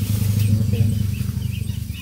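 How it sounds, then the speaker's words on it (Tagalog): Motorcycle engine droning on a mountain trail, a steady low hum that holds a constant level throughout, with faint chirping birds in the background and no talk. "May motor padulong dari."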